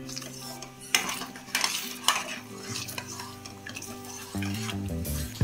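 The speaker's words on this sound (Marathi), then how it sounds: "आता आपण हा मसाला सर्व व्यवस्थित परतून घेऊया" Kolhapuri paneer masala is sautéed in a pan, with metal spoon scrapes and clinks over a low sizzle, irregular stirring strokes close by while instrumental music plays underneath.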